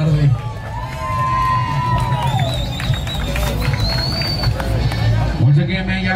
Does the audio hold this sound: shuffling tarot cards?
no